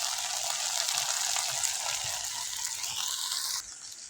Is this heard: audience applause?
no